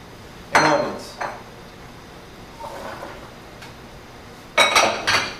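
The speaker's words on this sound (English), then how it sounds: "Mix evenly in the pan to give a nice bed for the turkey to sit on" Carrots, celery and onion are mixed in a metal roasting pan, giving a few sharp clattering scrapes and clanks of a utensil against the pan, separated by quiet pauses.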